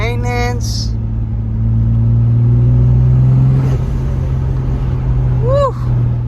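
Toyota Supra with a 1JZ engine idling steadily with a deep rumble that swells as it revs, running loud and continuous, with brief voices toward the end.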